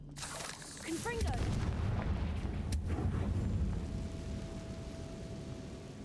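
A deep booming blast from the Confringo fire spell in Hogwarts Legacy, a heavy rumbling explosion that rolls on for several seconds, with a sharp crack partway through and a voice heard briefly.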